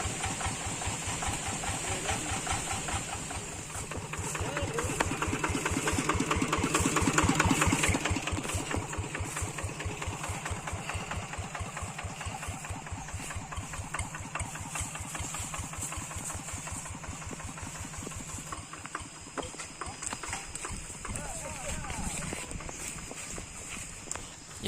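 A boxer tractor engine chugs steadily as it is lowered on ropes down a steep, extreme hillside, with an even rhythmic putter that swells slightly early on before settling back. Faint shuffling and rope or footstep noises sit beneath it.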